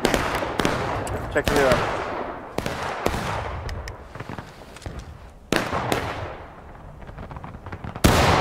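Artillery cannons firing in a skirmish battle game, with several loud booming blasts that each trail off into a long rumbling decay, interspersed with crackling fire and a brief spoken voice.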